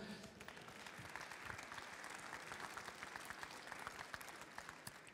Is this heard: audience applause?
yes